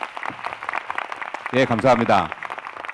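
Audience applause at a Korean-Chinese youth forum rises briefly and sits under a speaker's voice, fairly soft and short.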